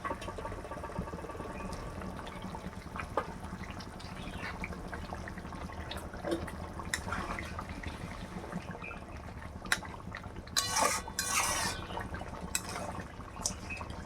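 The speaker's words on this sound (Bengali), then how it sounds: "ঝোল ফুটে গেছে, তাই আমি মাছগুলো ঝোলের মধ্যে দিয়ে দিচ্ছি" Pieces of chital fish go into a pot of boiling curry, giving a continuous liquid bubbling with scattered splashes and a brief burst of sharper sloshing near the end.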